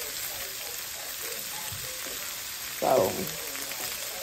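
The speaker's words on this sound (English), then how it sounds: "Bacon cooking today." Bacon fries in a pan with a steady, close crackling sizzle throughout, briefly swelling louder partway through, while a voice speaks a single word.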